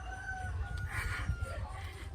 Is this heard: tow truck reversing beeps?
no